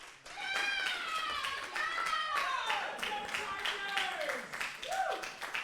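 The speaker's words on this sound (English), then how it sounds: "You guys can cheer louder than that." At the Battle For Glasgow 2024 esports event (League of Legends and Tekken), an audience cheers for the Glasgow Caledonian University Chargers as champions. Rising and falling whoops and shouts run continuously over scattered clapping.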